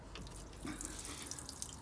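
Water drains from a caravan's fresh water tank, a faint steady trickle and splash with small dripping sounds, with nothing else audible.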